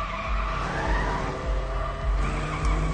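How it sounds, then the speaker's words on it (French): Car race between villains and heroes from a TV advert, with skidding tires and a roaring engine sounding loud and continuous throughout, with no talking. "c'est une course de voiture entre des méchants et des gentils"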